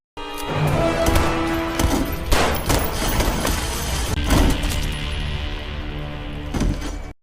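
Gunshots in an action film scene, several sharp, loud bangs spaced irregularly over a tonal background.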